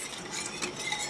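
Faint rattling and clinking of ice being scooped from a freezer, a busy mechanical clatter in the background with no talking.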